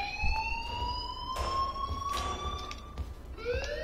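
A rising electronic alarm tone from the video game Life is Strange sounds continuously, with faint clicks and background noise underneath.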